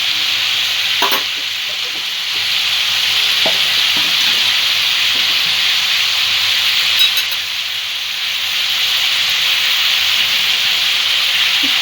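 Spices with chopped gourd (chalkumro) stir-fried in a pan for a fish-head ghonto, a steady close sizzle with scraping stirring strokes running the whole time, no voices.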